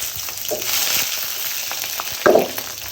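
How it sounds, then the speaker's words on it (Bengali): Chopped bottle gourd sizzling steadily in a hot pan, a soft continuous fry with a brief louder crackle or stir near the end, heard alone and fairly close. "এখন লাউ ভাজা শুরু করে দিয়েছি।"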